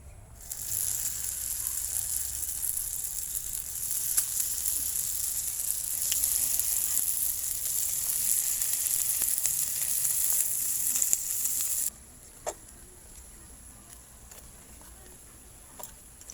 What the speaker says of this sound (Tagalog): ipiprito na natin yung ating lumpia